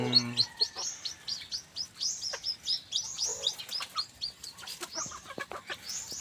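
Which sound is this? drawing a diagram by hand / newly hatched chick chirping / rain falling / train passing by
newly hatched chick chirping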